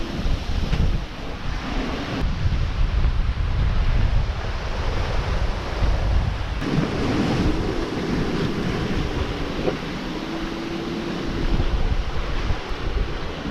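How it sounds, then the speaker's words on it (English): Strong wind and building sea waves wash steadily around a singlehanded sailboat on an Atlantic crossing from Bermuda to the Azores, a continuous loud rush with wind buffeting the microphone. "Yeah, quite windy, but not outrageous. It's just the sea is building a bit as the day goes on."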